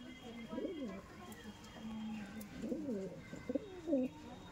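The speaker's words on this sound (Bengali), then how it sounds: "এটা ব্লু আইস লাইনের পায়রা" Andhra breed pigeons in a loft coo in repeated low, throaty bursts at moderate distance, several calls spread over a few seconds, with faint background noise and some talking.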